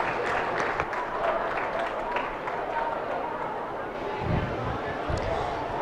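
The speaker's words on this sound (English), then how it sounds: "Let's give those two youngsters a nice round of applause" Audience applause at a 4-H and FFA beef showmanship and steer show, steady clapping from a crowd in the arena continuing through the whole stretch with some background murmur.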